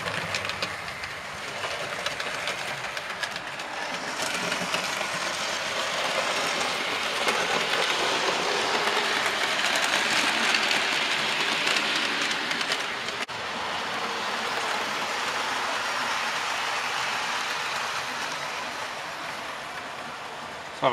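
Model railway trains running on a loft layout, a steady loud rumbling clatter of wheels on track that builds and holds for about twenty seconds, slightly easing after a brief dip.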